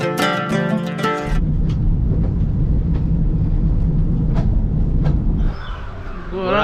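The Ooty toy train begins with a loud, tonal horn-like blast, then a close, steady rumble of wheels and carriages with a few sharp squeaks before the noise eases off.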